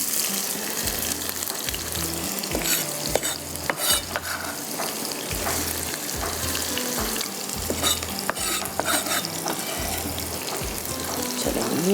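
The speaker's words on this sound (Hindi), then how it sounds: "अब हम ये जाएगी प्याज इसमें," Onions frying in a pot over low heat for chicken shahi handi, with a steady loud sizzle broken up by repeated scraping stirs throughout and no voices.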